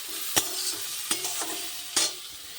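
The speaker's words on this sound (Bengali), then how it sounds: "তো এই যে এখানে উচ্ছে আলু ভাজা হচ্ছে এখন" Bitter gourd and potato pieces frying in a pan while being stirred, with three sharp scraping strokes of a utensil over a soft, steady sizzle, close and fairly quiet.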